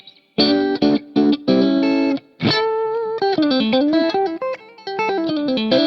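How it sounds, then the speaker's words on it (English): A Bootlegger Hounder large-body electric guitar played through distortion and effects, loud close chords struck in choppy bursts followed by a run of sustained bent notes, with no talk. "this is my Bootlegger Hounder. It's a pretty large body guitar."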